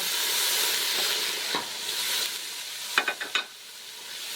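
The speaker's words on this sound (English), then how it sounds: "Just saute the garlic" Garlic and onion sauté in a pan for Bicol Express, giving a continuous close hiss and sizzle, broken near the end by a few quick utensil scrapes and taps.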